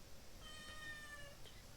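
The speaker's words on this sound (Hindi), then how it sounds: "एक तो बिल्ली म्याँ म्याँ कर रही है पीछे से" A cat meows in the background of a home in Himachal, a faint, drawn-out cry rising once or twice over steady room noise, with no talking.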